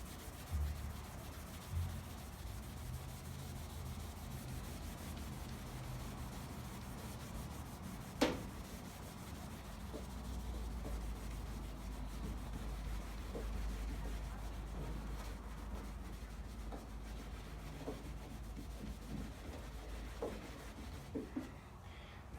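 Soft, steady rubbing of a cloth over car paint with a clear coat cleaning product, a low continuous friction sound with faint strokes and a couple of small knocks, close by and quiet, with no talking.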